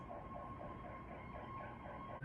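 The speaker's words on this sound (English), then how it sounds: "Ignore the siren." A steady wailing siren rises and falls repeatedly in the distance, continuous and fairly faint, over a low background rumble.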